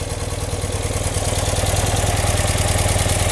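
An old motorcycle engine idles steadily and loudly close by, a continuous rhythmic chugging with no voices over it.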